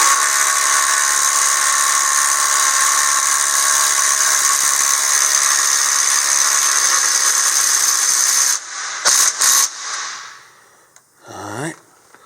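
A small impact wrench runs steadily on the hitch bolts of a Toyota FJ Cruiser during a Curt receiver hitch install. The loud, continuous whir lasts several seconds, then gives way to a few short bursts and a brief rattle near the end.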